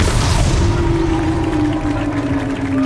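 In Hogwarts Legacy, an Incendio fire spell goes off as a loud, sustained roaring blast, with a low rumbling body and a wavering tone that lingers for a few seconds.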